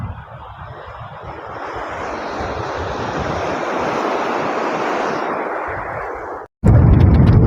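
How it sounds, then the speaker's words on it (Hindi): Sea waves crashing and surging at Umargaon beach in Gujarat, a loud continuous roar with wind buffeting the microphone, cutting out briefly before resuming. "लहर जो उठता है इतना आवाज़ करता है"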